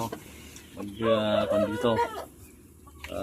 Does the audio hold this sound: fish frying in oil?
no